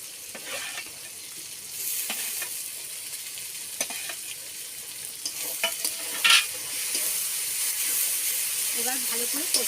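A paste of ginger, garlic and dried chilli fries in a hot pan, giving a steady loud hissing sizzle with occasional utensil scrapes and clicks while someone talks in the background.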